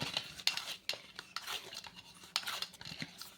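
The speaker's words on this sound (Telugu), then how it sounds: "దీన్ని చేతితో బాగా ప్రెస్ చేసుకుంటూ ఒకసారి బాగా కలిపేసుకోవాలి" Hands mix and press Kurkure dough of cooled semolina in a bowl, making a run of soft, close scraping and squishing sounds with occasional clinks against the bowl.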